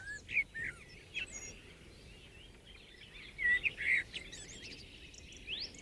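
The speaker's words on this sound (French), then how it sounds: "Voici le chant d'un merle." Blackbird song drifts in from a distance: scattered whistled phrases and chirps, fairly faint, over a low rumble of background noise, with no voices.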